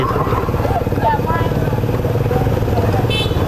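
A motorcycle engine idles and runs steadily close by, a low continuous rumble filling the whole stretch, with voices talking over it in the background.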